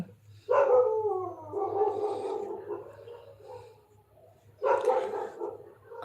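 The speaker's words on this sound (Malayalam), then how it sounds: "നായി കുറിക്കുന്നുണ്ട്" A dog barks twice, a drawn-out, somewhat howling bark followed after a pause by a shorter one, moderately distant over a steady low electrical hum.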